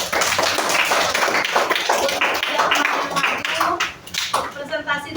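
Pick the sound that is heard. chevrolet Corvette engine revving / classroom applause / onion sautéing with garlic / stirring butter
classroom applause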